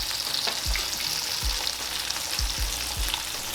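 Liver sizzles steadily in a hot pan for smothered liver and onions, a continuous loud hiss broken by several soft low thumps as pieces are moved or turned, with no one talking.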